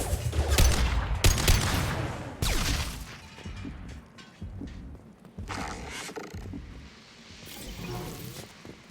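Sniper rifle shots in Mass Effect Legendary Edition, several loud sharp cracks spaced a second or so apart with echoing tails, over a low rumbling battle ambience with scattered distant impacts.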